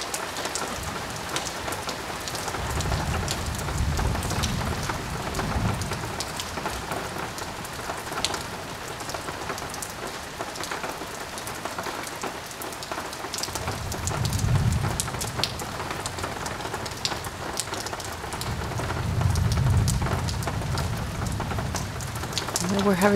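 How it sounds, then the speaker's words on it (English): A thunderstorm during a heat wave, heard from a backyard: steady heavy rain hisses throughout, and several deep rolling thunder rumbles rise and fade, with faint voices now and then. "We're having tons of lightning and thunder."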